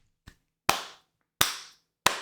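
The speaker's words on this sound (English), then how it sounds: "That's a clap for you" Three sharp hand claps, spaced about two-thirds of a second apart, each crisp and close with a short decaying tail, preceded by a faint small tap.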